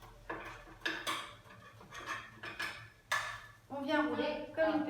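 Japanese omelette being rolled in a frying pan, a series of sharp metallic clacks and scrapes of utensil against pan, close and intermittent, with a voice talking over part of it.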